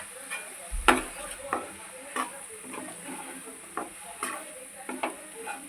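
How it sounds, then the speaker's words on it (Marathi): Coarse semolina being dry-roasted in a pan for upma, with repeated close scraping and stirring strokes over a faint sizzle, one sharper clank near the start, and no speech. "आणि रवा यांना चांगला भाजून घ्यायचा"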